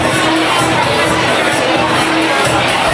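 A dense crowd at a footy calendar event keeps up a steady wash of cheering, whooping and chatter, loud and continuous throughout with no single voice standing out.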